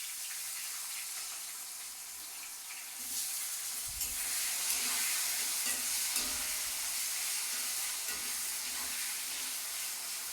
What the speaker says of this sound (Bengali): আলুটাকে আগে ভেজে নিই।